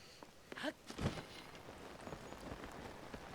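Rain falls in the video game The Legend of Zelda: Tears of the Kingdom, soft pattering drops on surfaces with a few sharper splashes and faint footsteps, quiet and close.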